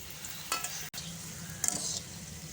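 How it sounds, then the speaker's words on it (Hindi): Mini samosas deep fry in hot ghee in a kadai, a soft steady bubbling sizzle with a few stirring scrapes and clinks, fairly quiet. "तो हम अब समोसों को डीप फ्राई करेंगे।"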